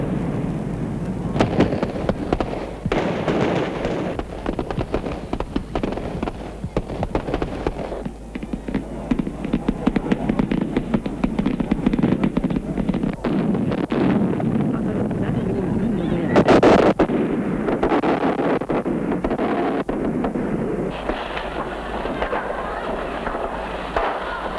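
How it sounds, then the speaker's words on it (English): Fireworks celebrating the Accra conference crackle and pop continuously in a dense, rumbling barrage of bursts, heard at a distance on an old recording. "It was a time for Africa to celebrate with fireworks."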